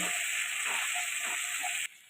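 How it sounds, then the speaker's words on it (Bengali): Onion and tomato frying in oil for a Bengali tilapia curry give a steady, close, bright sizzle that runs continuously, then drops sharply to a quieter hiss just before the end. "টমেটোটাও পেঁয়াজের সাথে ভালো করে আমি ভেজে নেব"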